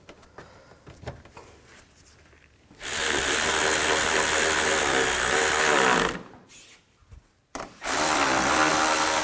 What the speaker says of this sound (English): then I'll tighten down those bolts.